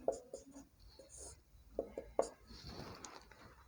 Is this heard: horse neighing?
no